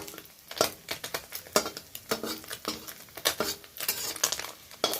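Fried Amudi fish are lifted from hot oil onto a plate, with quick clinks and scrapes of a utensil against metal and dishware and a faint sizzle in the background.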